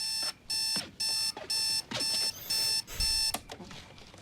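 An alarm clock in a Modern Family episode rings in about seven evenly spaced bursts of bright electronic beeping, close and clear, with no talk over it.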